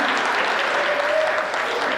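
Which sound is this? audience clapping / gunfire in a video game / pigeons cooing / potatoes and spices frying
audience clapping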